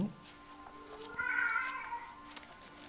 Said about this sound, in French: vous entendez mon chat qui s'exprime